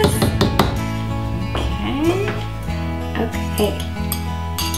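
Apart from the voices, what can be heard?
stirring soup in a pot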